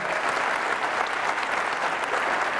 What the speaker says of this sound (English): Let's give them a round of applause for hosting us tonight.